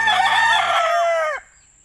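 A rooster with botulism crows loudly and close by, one long strained call that trails off and cuts to quiet.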